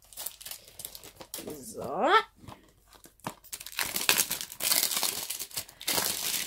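Plastic shrink wrap crinkles and tears as it is pulled off a Naruto Shippuden DVD box, loud close crackling bursts alternating with brief speech.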